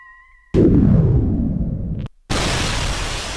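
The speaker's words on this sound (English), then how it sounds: "That deserves multiple explosions." Explosion sound effects: a loud, booming blast that decays in a rumbling tail, a brief cut to silence, then a second harsh, noisy burst that stays loud.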